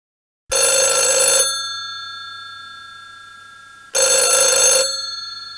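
Telephone ringing in a 1999 children's CD-ROM game, two loud bright electric bell rings separated by a pause of about two seconds, each fading out slowly after it stops.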